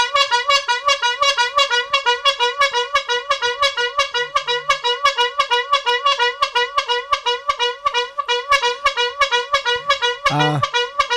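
A car horn honking in a long rapid series of evenly spaced, loud electronic beeps, continuing almost without pause, with one separate sliding tone near the end.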